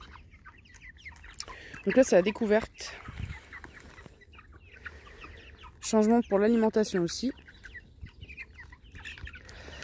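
Free-range chickens cluck in two short bursts while pecking at real grain mixed with layer pellets, close by, with someone talking quietly between the bursts.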